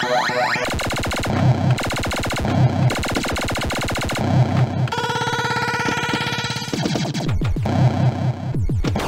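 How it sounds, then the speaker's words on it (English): Loud electronic Robotron sound effects from a video pinball table: harsh, rapid machine-gun-like bursts repeat in quick rhythmic patterns, with buzzy synthetic tones and sweeps filling the whole stretch. "Robotron sound effects."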